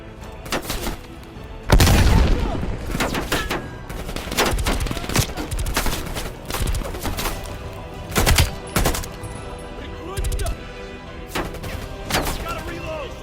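Call of Duty Cold War combat, loud close bursts of rapid gunfire and heavy blasts from grenades overlapping in dense volleys, with brief game voices between the shots.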